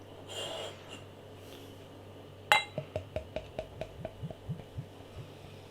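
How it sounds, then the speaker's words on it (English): Ratsherrn Moby Wit, a Belgian white ale, is poured from a bottle into a glass: a sharp clink, then a rapid, regular run of soft glugs that fades slightly toward the end. "Let's get the beer out into a glass and see what we get."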